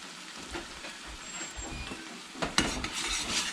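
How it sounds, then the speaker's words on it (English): Flour-coated pork chops drop into hot grease and sizzle steadily, a soft hissing crackle that swells louder near the end, with no talking. "pass them through the flour, throw them in the grease"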